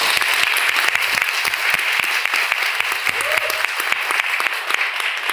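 An audience at a training seminar in Pilibhit, Uttar Pradesh, claps in sustained, dense applause, loud and steady throughout.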